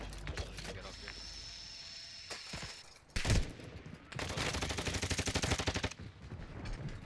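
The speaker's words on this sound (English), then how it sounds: "I'm gonna shoot you so you can get up here." Gunshots in Call of Duty DMZ: a sharp loud report followed by a rapid rattling burst of automatic fire, with quieter ambient noise and occasional voice chat around it.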